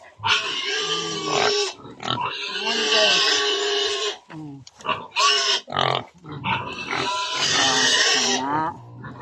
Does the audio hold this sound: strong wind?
no